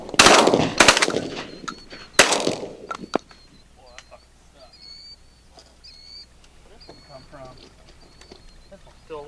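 Shotguns fired during a pigeon hunting contest, several loud close blasts in the first two seconds, followed by quieter bird calls and outdoor ambience.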